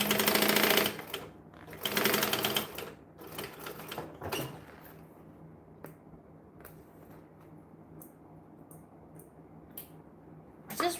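A sewing machine stitches a bag in bursts, with loud stretches of rapid mechanical whirring broken by pauses and quieter clicks and handling noises, and the running fades to sparse taps later on.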